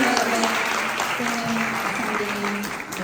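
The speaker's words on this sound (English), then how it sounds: "we can applaud Tillie. She's not here, we'll applaud her." An audience at a book tour Q&A claps in a steady crowd applause that lasts about three seconds, with voices talking over it.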